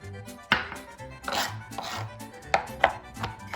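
A knife chopping chocolate chips for scone dough on a board, a handful of sharp, uneven chops with short pauses between them, close and fairly loud.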